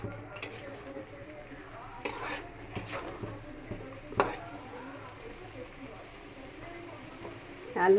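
Lightly fried potatoes are stirred and sautéed in a pan, with intermittent scraping clinks of a spatula against metal over a low sizzle, moderate and close, while a person talks.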